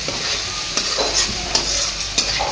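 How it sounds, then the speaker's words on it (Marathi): Onion and tomato masala frying in a pan with garlic, a steady loud sizzle under repeated scraping strokes of a spoon stirring it, close up. "हे चांगलं मिक्स होईपर्यंत चांगलं तळून घ्यायचं"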